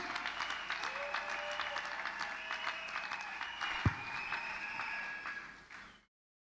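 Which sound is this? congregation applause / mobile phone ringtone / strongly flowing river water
congregation applause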